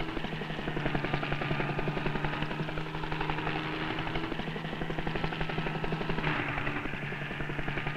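A helicopter flies over the African bush during a zebra capture, its rotor giving a steady rapid thumping pulse over a low engine drone, moderately distant and unbroken throughout.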